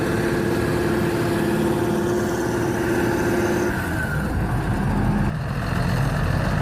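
The engine of a big John Deere 7820 tractor stuck in wet mud keeps up a heavy, low rumbling drone that holds steady and loud throughout.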